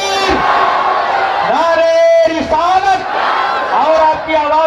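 Crowd at an Islamic religious conference in Bahraich responds with loud raised-voice chanting of Nara-e-Takbeer slogans, several swelling collective shouts in quick succession, close and energetic.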